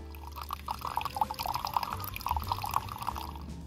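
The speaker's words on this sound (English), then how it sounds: "I started my morning off with Pete's coffee made in the Keurig." A Keurig machine brews a cup of Pete's coffee, giving a steady gurgling trickle and dripping of liquid into a mug, continuous and close throughout with no talking.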